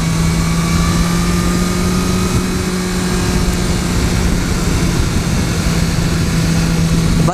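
Engine of a 2015 BMW S1000R motorcycle held steady in fourth gear while riding, a continuous loud drone with a strong low hum and broadband wind rush that never lets up.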